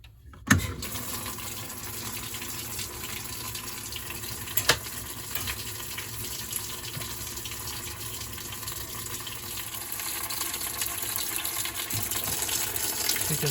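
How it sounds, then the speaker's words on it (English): A workshop washing machine fills with water during an empty test cycle, a steady continuous rush of flowing water throughout with a few faint clicks and knocks. "You can see we've got water flowing,"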